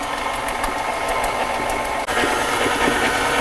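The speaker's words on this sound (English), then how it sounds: "And I'm going to turn the mixer back on" Electric mixer blending cream cheese pumpkin pie filling with ground cinnamon, a steady close motor whir running continuously with a brief dip midway, no talking.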